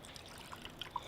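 Water dripping from a squeezed earthen-catchment sponge during a rainwater harvesting demonstration, a few faint, scattered drips and light trickling against soft background noise.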